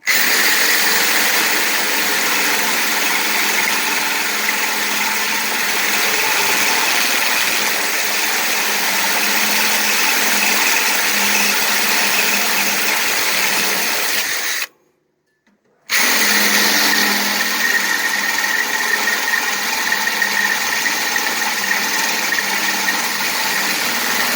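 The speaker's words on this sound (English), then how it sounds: "I'm drilling this one large so it has room to pass the wire through" A power drill whines steadily and loudly for a long stretch while drilling a large hole in an M101A3 trailer, cutting out briefly partway through before starting up again.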